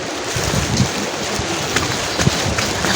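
Rain falling on a mountain trail, a dense, constant hiss of drops close by with a few heavier spatters, steady and fairly loud with no voices.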